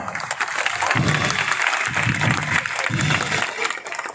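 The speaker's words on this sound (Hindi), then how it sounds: "तो आपकी तालियां मुझे बताओ" A theater festival audience claps in response to a family stage drama, a lively crowd applause lasting a few seconds with some low rumble and crowd noise mixed in.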